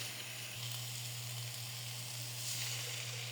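Masala for a spicy hilsa fish curry sizzles steadily in a pan after a splash of water, a continuous hiss and low frying crackle with no talking.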